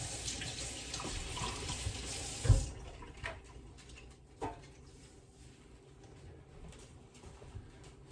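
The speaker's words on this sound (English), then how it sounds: "Now, let me wash my hands." Tap water runs into a sink as hands are washed, a loud rushing stream for about two and a half seconds that cuts off, followed by quieter drips, a clunk and faint background noises.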